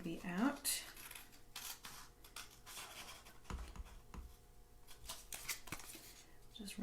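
Scissors snip out a paper artist card, giving faint, quiet crisp cuts and paper rustling in a close, otherwise still room.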